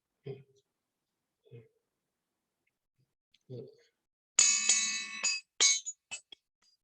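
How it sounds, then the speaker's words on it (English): A few soft taps, then a bright metallic ringing tone that sustains for about a second and rings again in shorter bursts, fairly close and clear. "There is a ringing noise,"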